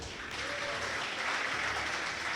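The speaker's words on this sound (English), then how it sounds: "This applause becoming quieter and quieter." Steady crowd applause at a Warcraft III esports grand final, a dense wash of clapping that holds at a fairly even level throughout, with no voices standing out.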